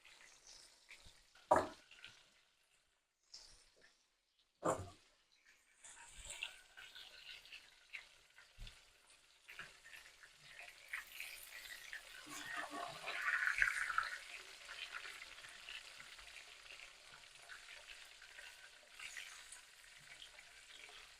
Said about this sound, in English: This is vegetable oil that I'm frying them in.